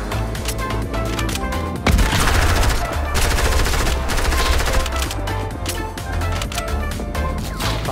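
Continuous heavy gunfire in Fortnite, overlapping rapid shots and bursts at close range with a sharp louder impact partway through, dense and unbroken throughout.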